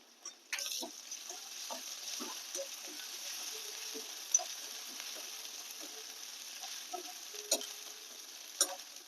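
Onion and green chili paste sautéing in a pan gives a soft, quiet sizzle with scattered spoon stirs and a few sharp clinks against the pan.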